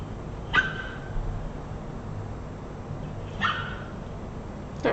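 A person imitates a dog with a few short, sharp barking yelps spaced apart over a low, steady background hum.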